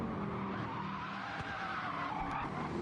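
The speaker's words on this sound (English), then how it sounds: "You can hear him squealing behind the BMW" A GT3 race car in a racing video game squeals its tires while chasing a BMW on a village circuit, a sustained skidding whine over steady engine roar.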